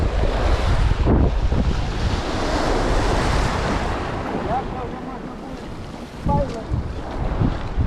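Sea waves and strong wind at a fishing spot, a loud continuous roar of surf with gusty wind buffeting the microphone and occasional faint sharper sounds over the wash.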